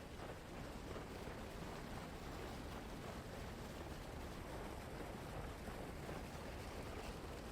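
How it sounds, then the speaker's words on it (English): A waterfall in the video game Lifeless Planet gives off a steady, dense roar of rushing water, faint and unbroken for several seconds with no speech. "I want to go look at the top of this waterfall"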